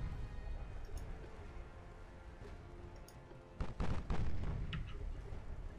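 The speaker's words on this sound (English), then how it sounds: "We'll fire a torpedo just because we can." A warship in Ultimate Admiral Dreadnoughts launches a torpedo, a sudden burst of deep booming rumble that rises partway through and fades over steady low battle ambience, with no voices.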